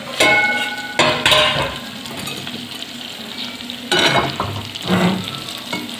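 Stuffed sponge gourd bhaji sizzles and crackles steadily in oil in a pan, broken by a few louder scraping and clattering bursts of a spatula or lid against the pan.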